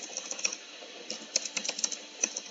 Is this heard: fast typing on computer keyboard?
yes